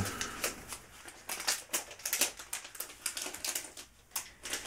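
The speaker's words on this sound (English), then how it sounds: "I'm using a very small pair of scissors for this job" Rapid, crisp snipping of small scissors trimming eyebrows, a quick irregular series of light clicks close by, with no talking.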